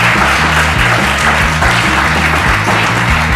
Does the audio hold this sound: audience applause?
yes